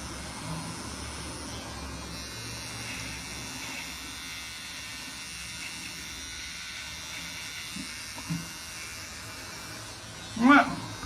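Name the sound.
electric shaver shaving face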